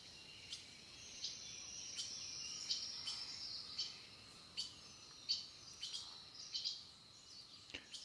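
Small birds at a backyard feeder give short high chirps and thin whistles, scattered and fairly faint over a quiet outdoor background with steady insect-like hiss, no one talking.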